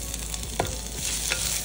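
Chopped onions frying with ginger in a hot pan, a loud, steady wash of sizzling close up with a couple of brief stirring scrapes of the spatula, no voices.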